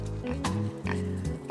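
A pig on a farm grunts and oinks in several short, close, loud bursts in quick succession, with no talk.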